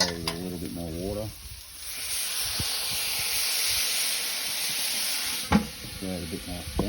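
Water hitting a hot stir fry of vegetables on a Weber barbecue hotplate bursts into a loud, sustained steaming sizzle and hiss lasting several seconds, with someone talking briefly before and after.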